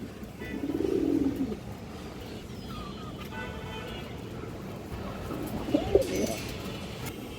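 A good-bloodline pigeon with red eyes gives soft, low cooing in two short bursts, one near the start and one toward the end, over a steady background hum with faint chirps and distant traffic.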